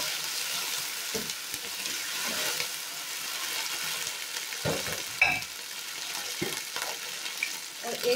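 Steady oily sizzling of garlic paste frying in a hot pan, close and continuous, with a few soft scraping stirs and clinks breaking through.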